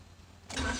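A car engine starts, the cranking giving way at about the halfway point to a loud, broadband catch and steady running, close by with no talk.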